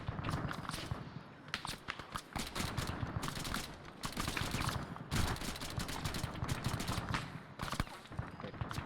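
Rapid video-game gunfire in a squad firefight, dense bursts of automatic shots and sharp cracks filling the whole stretch, loud and close, with players talking in between.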